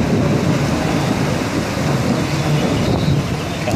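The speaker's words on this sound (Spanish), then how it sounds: "Sigue sonando los truenos." Thunder from a storm over a river near a hermitage in Cali rolls as a continuous low, deep rumble mixed with wind noise, steady and fairly loud throughout.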